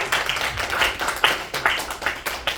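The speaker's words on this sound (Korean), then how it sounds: "박수 한번 할까요?" Uneven clapping from a modest chapel audience at a Tuesday service, individual sharp claps clearly separable in a loose, irregular rhythm, fairly close and moderately loud with no talking over it.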